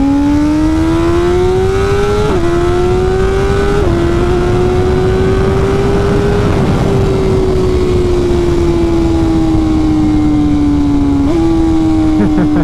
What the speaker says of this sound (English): I swear this bike has the best quick shifter of any bike that I've ridden